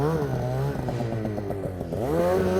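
A snowmobile engine revs hard on a mountainside while the sled is worked free of being stuck, a loud, continuous droning roar that rises and falls in pitch and dips briefly before surging again.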